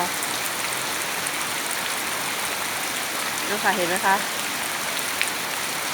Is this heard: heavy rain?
yes